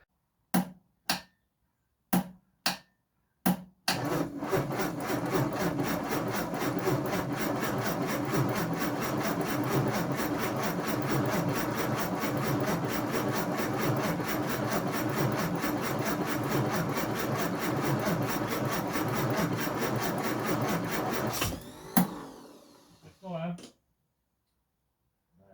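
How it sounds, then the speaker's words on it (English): An Austin Healey 3000, cold, is cranked on the starter motor: a few sharp separate cranks, then the engine fires and runs at a loud steady roar for many seconds before cutting off. "It fired and immediately came off the starter."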